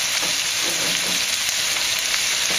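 Potatoes fry in a pan with a steady, dense sizzle and occasional soft scrapes from stirring, close and continuous with no talking.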